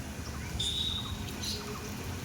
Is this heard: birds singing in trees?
yes